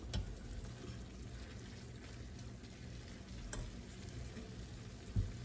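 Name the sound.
pan heating up and sizzling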